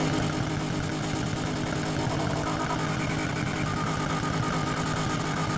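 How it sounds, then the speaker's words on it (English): A subdued, steady engine drone from an Infiniti Q60S in the racing game Need for Speed Heat, a constant dense hum at even loudness with no revving changes. "let's edit the exhaust sound."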